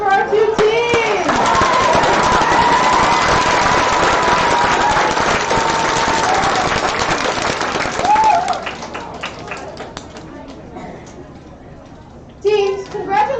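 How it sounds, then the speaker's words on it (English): Loud, dense applause with crowd cheers fills a school robotics competition closing ceremony, sustaining for about eight seconds before thinning out, with voices audible as it fades. "one more round of applause for our two teams"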